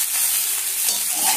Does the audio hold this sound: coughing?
no